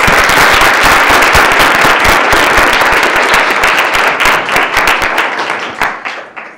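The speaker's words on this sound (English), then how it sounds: "everyone join me in a round of applause for Justice Lee" A lecture-hall audience at a Federalist Society event applauds loudly and densely to welcome a speaker, with crisp claps filling the room before the ovation thins and fades toward the end.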